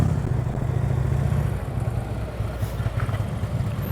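A motorcycle engine runs at low speed during slow-speed riding practice, giving a steady, low, rumbling drone with a faint mechanical clatter. It carries on without a break and sounds moderately close.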